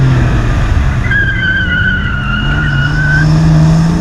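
A BMW M3 on a race track slides through a corner, tires squealing in a long rising screech over the loud, steady drone of the engine heard from inside the car.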